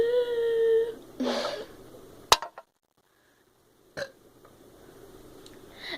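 A loud, drawn-out burp follows chugging a drink in a burping challenge. A sharp clink and a brief silence come after it, then fainter knocks and room noise.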